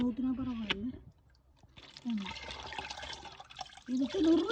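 Water poured from a container onto potted plants, a broad splashing rush in two stretches between bursts of nearby talk, fairly close and moderately loud.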